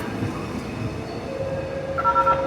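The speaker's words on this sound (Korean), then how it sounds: "현재 도착하고 있는 열차는 관광열차입니다." A Saemaeul-class tourist train pulls into Suwon station, its steady rumble of rolling railcars loud and near, with a thin wheel squeal rising toward the end.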